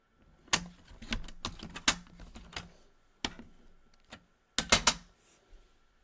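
Several sharp, separate snips from cutting half an inch off a black strip, coming in irregular bursts with short pauses between them, close up and fairly quiet.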